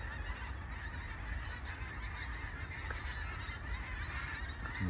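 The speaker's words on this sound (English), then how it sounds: "All the geese." A flock of geese honk in the distance, their calls faint and continuous over a broad wash of outdoor background noise.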